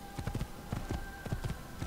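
Horse hooves clip-clop in a steady, rhythmic gait in Assassin's Creed, fairly close and clear over a faint constant hum, with no voices.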